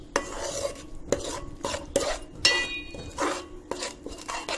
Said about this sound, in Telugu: ఇలా అన్నీ వేసి కొద్దిసేపు ఫ్రై అవ్వనివ్వాలి